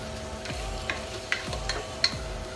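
Chicken sautés in a pan for curry, a soft sizzle under a few light scrapes and taps of a utensil stirring at a relaxed pace.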